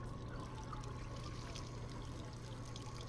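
Water pours steadily in a Job Simulator kitchen scene in a chef video game, a faint, continuous trickle with no break and no voices over it.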